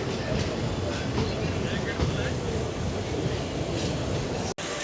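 Steady rumble and rolling noise of the Mannai Express, an Indian passenger train, pulling into Needamangalam Junction station, heard from inside the carriage as a continuous moderate roar with a brief dropout near the end.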